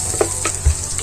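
Ginger garlic paste frying with onion and green chili in hot oil in a pan: a short burst of steady sizzling with a couple of soft stirring knocks, close and fairly loud, with no talking.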